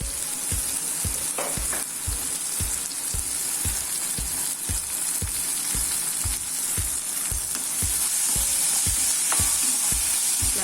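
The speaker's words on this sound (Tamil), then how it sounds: "இது ஒரு 2 நிமிஷம் வதங்கி வரட்டும்." Ingredients for vatha kuzhambu sauté in a hot pan, giving a steady loud sizzle throughout with regular scraping stirs in a quick, even rhythm, close up and with no talking.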